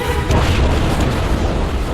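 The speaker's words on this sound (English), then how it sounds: "A massive explosion rocks the Mississinawa." Massive explosion of a Heaven Shaker strike on the Mississinawa, igniting fuel oil into a firestorm; a loud, sustained roaring boom that fills the whole stretch with dense low rumble.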